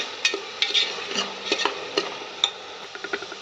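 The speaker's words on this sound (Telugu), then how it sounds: "కొత్తిమీర పుదీనా వేసుకున్నాను బాగు అన్నప్పుడు చక్కగా ఏది ఈ మిశ్రమాలు అనేది చక్కగా నూనెలో వేగని" Coriander and mint frying in oil for chicken pulao, stirred in a pan, with a soft sizzle under a series of light scraping and tapping strokes, close and steady.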